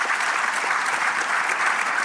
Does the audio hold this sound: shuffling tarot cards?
no